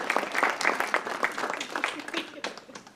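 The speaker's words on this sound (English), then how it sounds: "I think that gets a round of applause." An audience at a talk event claps for a few seconds, a lively round of applause that fades toward the end while voices speak over it.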